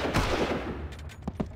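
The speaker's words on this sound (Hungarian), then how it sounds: "hallod, ahogy így alulról lövöldözzük" Gunfire from below in the Far Cry video game: a loud opening burst followed by a few separate sharp shots near the end.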